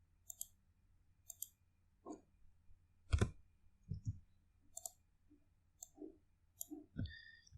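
Sharp computer mouse clicks from someone working with a MySQL table on a computer, about a dozen crisp, close, irregularly spaced clicks over a quiet background, with a few louder thumps and no talking.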